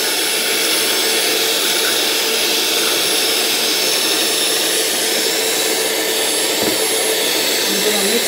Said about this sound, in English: I'm going to whisk for just 10 minutes.